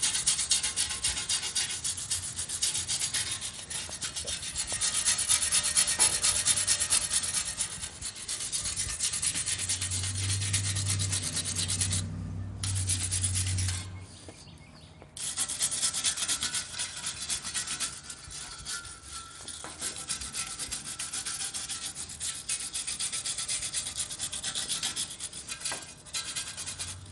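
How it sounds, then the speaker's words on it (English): A wire wheel scrubs metal supports on a utility trailer, producing a continuous harsh abrasive rasp that swells and eases in long strokes, with one short pause midway. "Now I'm gonna wire wheel it."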